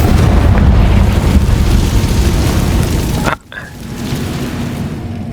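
Confringo spell blast in Hogwarts Legacy, a loud roaring burst that holds steady for several seconds, then cuts off sharply and settles into a lower rumbling ambience.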